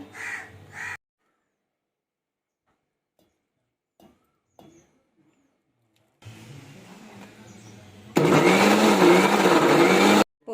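A kitchen mixer grinder blends boiled raw mango and moong dal with salt and water, starting after quiet handling noises, first a lower whirr, then a loud steady high-pitched grinding for about two seconds before stopping.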